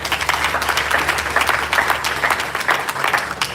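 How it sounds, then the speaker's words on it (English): Temple congregation at a Ramayan yagna claps for the Vyasji, a lively, uneven round of applause with distinct individual claps, fairly close and continuous without talk. "Round of applause, please."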